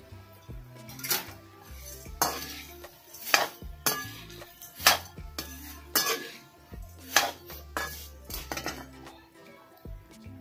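Fried poha being stirred in a pan with coconut, peanuts, turmeric and chutney for a Maharashtrian chiwda, a metal spoon scraping and clinking in repeated strokes, close and fairly loud, with no talk.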